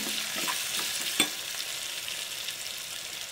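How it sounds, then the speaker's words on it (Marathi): Chopped chickpea greens sauté in a pan with green chili paste, giving a soft continuous sizzle and faint stirring scrapes, with one small clink, alone and fairly quiet. "तर आपण थोडंसं परतून घेऊया."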